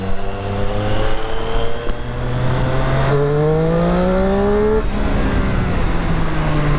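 A Triumph Street Triple R motorcycle is ridden on the road, its engine loud and close as it revs and climbs steadily through rising pitch, drops back and pulls again, with no talk over it.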